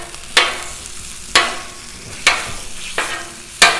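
A spatula chops breakfast quesadilla ingredients on a Blackstone griddle in four or five sharp, evenly spaced strikes over a soft continuous sizzle, close up.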